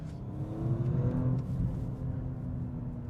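A 2023 Audi S6 twin-turbo accelerating hard, a steady engine rumble heard from inside the cabin with a faint rising turbocharger whine over it.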